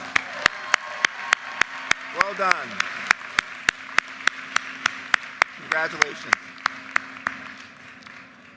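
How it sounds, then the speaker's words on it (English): An audience at a University of Maryland commencement ceremony applauds steadily, with a broad wash of clapping. Sharp, evenly spaced clicks run over it, and a voice briefly speaks partway through. "Give her a round of applause."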